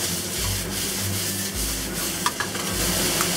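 Fish fillet with mushrooms cooking in sesame oil in a wok, heard as steady close sizzling with repeated rubbing and scraping strokes of a utensil and a few sharp taps.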